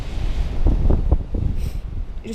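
Strong wind blowing on the coast at Pointe de Bellevue, loud buffeting gusts that pummel the microphone with deep rumbling bursts over a constant roar.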